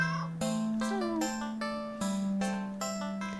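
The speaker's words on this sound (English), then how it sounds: "Meow." A cat meows repeatedly in a video game, several short, clear meows at a fairly even pace over a steady background tone, close and distinct with no talking.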